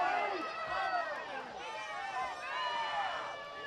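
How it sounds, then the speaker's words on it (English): A soccer stadium crowd at a Chattanooga Red Wolves SC vs. North Texas SC match groans and jeers after a foul, a sustained wash of many distant voices rising and falling, with a commentator talking over it. "The crowd doesn't like it."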